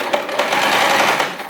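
A basic sewing machine stitching a fabric seam whirs in one continuous, close, loud burst with a fast, even needle rhythm.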